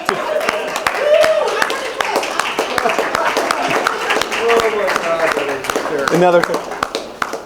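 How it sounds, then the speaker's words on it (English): An audience at a Toastmasters club meeting claps and applauds in a room, scattered hand claps running through while people talk and cheer over it. "Can we just give another round of applause"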